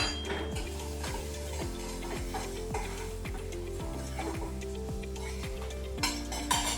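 A utensil stirs turmeric through salt-softened onions in a pan, scraping in a steady repeated rhythm over a gentle sizzle, close and moderately loud.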